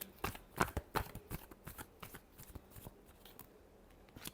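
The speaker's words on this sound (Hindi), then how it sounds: "last shuffle" Tarot cards being shuffled by hand, a series of crisp riffling bursts and soft slaps, several quick ones early then sparser and fainter, close up and quiet.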